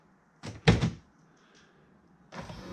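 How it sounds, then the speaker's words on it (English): Mercedes W204 side mirrors electrically folding in and out, heard as a short whirring motor burst with a clunk, a quiet gap, then a second motor whir starting near the end, close and fairly loud. "Your mirrors are folding in and out again."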